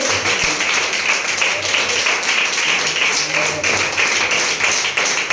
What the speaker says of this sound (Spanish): Denle un aplauso a nuestro Padre